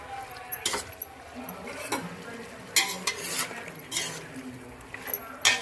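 A spoon stirs garam masala into chicken gravy in a pan, with repeated close scrapes and clinks against the metal over a soft, steady sizzle.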